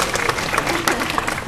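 Audience applause at a live magic and sword-swallowing show, a brief burst of dense clapping from a crowd, close and fairly loud.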